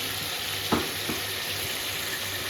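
Chili and garam masala fry in a pan of oil for chicken tehri, a steady close hiss of sizzling broken by a couple of brief stirring scrapes.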